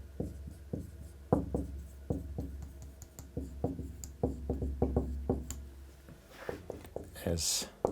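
Chalk or marker tapping and scraping against a board during a linear algebra lecture, a rapid run of short knocks and strokes at close range with a faint room hum behind.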